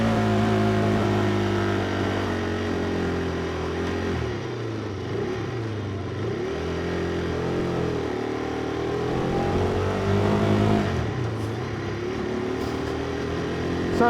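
A KTM 390 Duke single-cylinder motorcycle engine drones steadily while riding on a road, its pitch rising and falling as the rider shifts and changes throttle, loud and close throughout with no talk.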